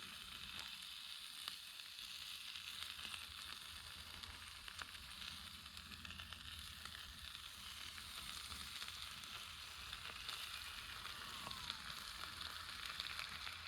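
Butter melting on a steak in a pan gives a steady, soft, even sizzle of frying fat that continues unbroken and alone at low volume.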